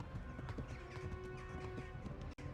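Horse hooves gallop in a rapid, steady clip-clop rhythm in the medieval video game Kingdom Come: Deliverance, close and continuous, with a brief whinny-like tone over the pounding before a short cut near the end.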